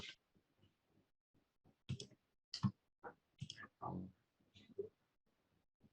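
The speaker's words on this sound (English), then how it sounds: "So click apply and then click run" Sharp computer mouse clicks sound while a person works in SPSS Modeler software, scattered between a person's spoken instructions, close and fairly quiet.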